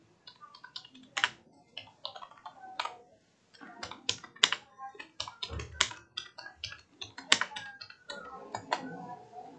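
Fingers tap a computer keyboard in uneven bursts of sharp, close clicks, with short pauses between words and a brief gap in the middle, alone without speech.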